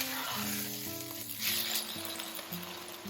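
Pan-fried bean curd sticks and wood ear mushrooms hiss and crackle in a seasoned broth, giving a steady close sizzle with light stirring and background music beneath.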